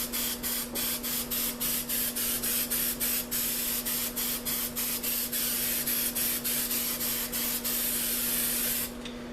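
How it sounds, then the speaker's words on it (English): A spray paint can hisses out black paint in a steady, close stream, broken by rapid short pulses as the nozzle is tapped, with a constant low hum underneath and no talking. "What I'm doing now is I'm spraying black and kind of easing back off into it."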